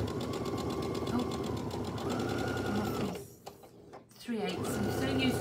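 Sewing machine stitching fabric for a bone-shaped neck pillow, a steady close rapid whirring run that pauses briefly mid-way and then resumes, with someone talking over it.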